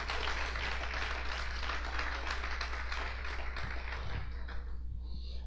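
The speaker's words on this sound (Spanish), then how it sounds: "Denle palmas fuertes al Señor." Church congregation clapping together during a service, a steady dense wash of many hands at moderate distance that thins out toward the end.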